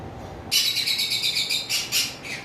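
A lovebird chirps repeatedly in quick, high bursts after a brief quiet start, close and fairly loud with no voices.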